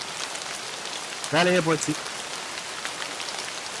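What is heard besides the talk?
summer rain falling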